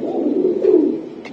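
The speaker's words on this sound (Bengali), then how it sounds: "এটা পাঙ্কি একটা কবুতর।" A fantail pigeon gives a single low, throaty coo that swells and fades, loud and close, with nothing else around it.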